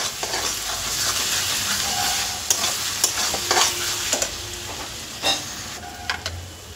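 Spices and salt stir-fried in a pan for a fish-head and greens dish, with a steady close sizzle broken by repeated spatula scrapes and clicks on the metal, no voices.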